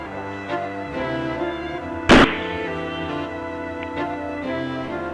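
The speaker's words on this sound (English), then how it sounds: "replaying of the sounds of Stoneman's shooting, which occurred 31 seconds after 1:11 a.m. on June 6, 2012" A single sharp gunshot from a police shooting at night cracks out loudly once over a steady humming background tone, then the hum continues alone.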